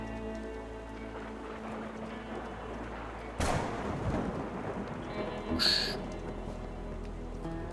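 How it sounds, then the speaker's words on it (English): In the video game Rue Valley, a sharp thunderclap cracks through a steady night rainstorm and rolls off into a low rumble, followed by a brighter sizzling burst a couple of seconds later, all over continuous pattering rain. "Lightning splits the night sky apart, and a heartbeat later, the thunder rolls."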